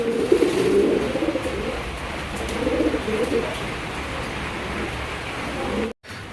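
Pigeons coo in soft, repeated throaty bursts close by, over a steady background hiss.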